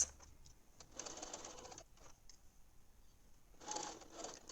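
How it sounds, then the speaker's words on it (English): A sewing machine stitches the sides of a small fabric bag, a quiet rapid whirring and ticking that runs in short bursts with brief pauses, close by. "So I'm just sewing 3 sides here and leaving one side open for the top"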